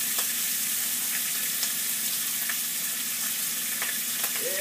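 Bacon frying in a pan, a steady close sizzle with scattered crackles and pops throughout and no talking.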